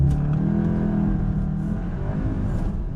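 A 2023 Cupra Leon Estate launches hard with launch control, its engine note heard from inside as a loud, steady, rising drone with a deep rumble, continuous for the full few seconds without talk.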